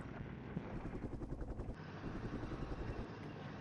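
Helicopter in a Cold War tactical wargame, heard as a steady throbbing rotor thump with a rhythmic beat, moderately close and quiet, alone with no voices.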